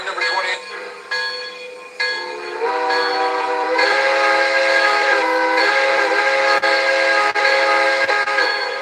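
A train departs with its horn sounding continuously, loud and close, chords shifting over a steady rumble of railcars, with a faint bell-like ring.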